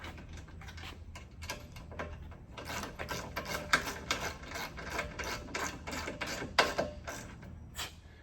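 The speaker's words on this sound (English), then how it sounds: "putting those bolts in, grabbing your Allen, and tightening stuff up" Metallic ratcheting and clicking as bolts are tightened with an Allen wrench on a retractable hitch step for a Sprinter van, a steady run of small close taps and ticks without talk.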